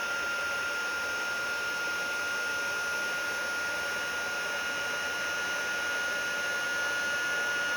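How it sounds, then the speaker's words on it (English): A craft heat tool melting embossing powder blows a loud, constant, whooshing hiss like a hair dryer, close up and unbroken for the whole stretch. "taking my heat tool, I'm just going to apply that heat right to that"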